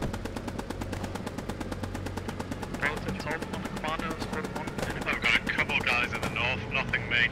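A Stuka dive bomber attacks in a World War II video game, bringing rapid machine-gun fire and a rising aircraft whine over steady battle noise while players talk over it.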